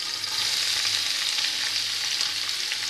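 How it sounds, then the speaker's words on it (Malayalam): Ginger, garlic, green chili and onion fry in hot oil, giving a steady, dense sizzle that stays loud and even from start to finish, with faint stirring beneath and no talking. "എണ്ണ ചൂടായതിലേക്ക് ഇഞ്ചി, വെളുത്തുള്ളി, പച്ചമുളക് ഇട്ട് കൊടുക്കാം. ഇതിലേക്ക് സവാളയും കൂടെ ഇട്ട് കൊടുക്കാം."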